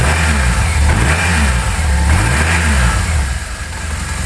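An air-cooled BMW R 1200 GS motorcycle engine idles and is blipped several times nearby, a loud, throbbing boxer-twin note that rises and falls with each rev, with no voices over it.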